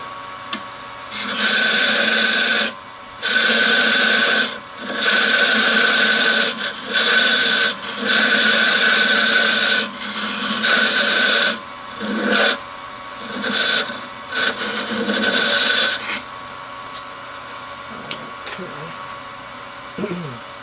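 A small half-inch gouge cuts a wooden darning egg spinning on a lathe, giving loud rasping scrapes in repeated bursts with short pauses between them, tapering off quieter near the end.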